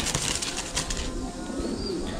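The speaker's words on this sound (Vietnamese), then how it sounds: "đây là ba chú chim bồ câu chưa ra ràng, mới là chim bồ câu con thôi" Young squab pigeons of the Thai Titan meat breed being handled, with soft rustling and brief wing flutters close by, faint cooing underneath, no voices.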